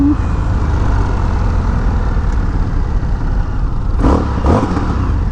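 Indian FTR 1200 motorcycle with its 1200cc engine and stock exhaust, idling with a deep steady rumble, then two quick loud throttle blips near the end.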